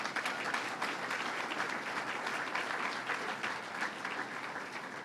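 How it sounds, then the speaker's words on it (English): A crowd at a Governor Cuomo event in Fulton applauds the Common Council President, producing a steady, dense round of clapping that continues evenly for several seconds before easing slightly. "Let's give him a round of applause."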